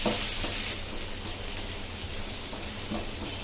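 Garlic frying in a pan for soya manchurian, a steady hissing sizzle with faint crackles throughout, close and continuous with no voices.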